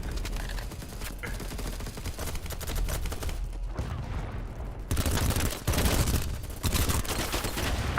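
Rapid bursts of automatic gunfire in the shooter game BattleBit, dense sustained volleys with a brief lull and then louder close firing, no talking over it.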